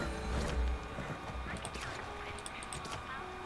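Horse hooves clip-clop in the Alicia Online horse breeding game, a rhythmic patter of steps with a brief whinny-like tone. It sits under a game backdrop, with faint talk mixed in.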